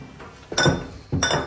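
Thothal, a thick Jaffna coconut sweet, being stirred in a pot, heard as two loud clinking scrapes of a utensil against the pot about half a second apart, with no talk.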